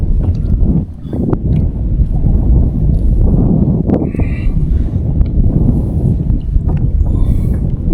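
Strong wind buffets the microphone during kayak fishing on open water, a constant loud low rumble with gusting swells and occasional faint knocks.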